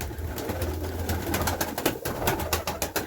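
Pigeons coo in low, soft murmurs, with scattered clicks and flutters from the birds moving around nearby as they are fed sprouted wheat.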